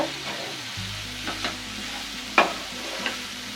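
Mashed potato stirred into potato saagu simmering in a pan, low bubbling and sizzle with a few soft spoon scrapes and one sharper clink, close up with no voices.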